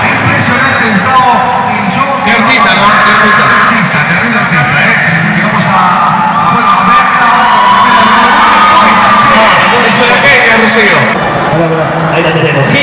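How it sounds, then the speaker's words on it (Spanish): A studio audience at a Sunday TV show cheers and applauds for Rocío, a loud sustained crowd roar with whoops and shouts, mixed with a host talking over it throughout. "¡Fuerte el aplauso!"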